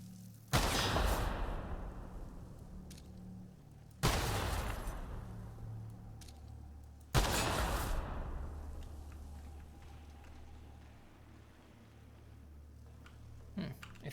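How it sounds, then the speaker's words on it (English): Mines get shot in The Outer Worlds, setting off three heavy blasts spaced a few seconds apart, each with a long rumbling decay, loud and alone. "Just shoot these mines."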